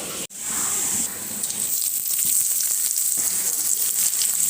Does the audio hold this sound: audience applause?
no